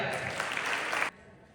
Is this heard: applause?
yes